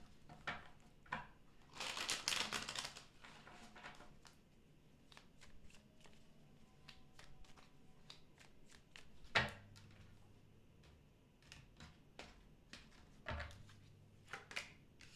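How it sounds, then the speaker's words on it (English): Tarot cards shuffled in scattered, crisp bursts of riffling and slapping, faint and close, with quiet gaps between shuffles and no talk. "Two more shuffles."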